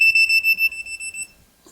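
Kitchen electrical outlets emit a rapid run of high, piercing electronic beeps, about seven pulses in quick succession that fade out, followed by a faint click.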